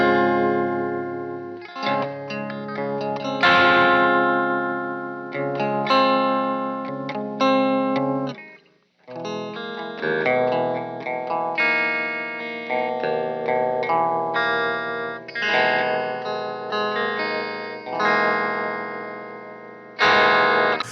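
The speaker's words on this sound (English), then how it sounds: "the tremolo over here sounds pretty much perfect once you dial it in correctly" An electric guitar runs through a stereo tremolo effect pedal with panning modes, playing chords and melodic phrases whose volume pulses rhythmically throughout, loud and unaccompanied.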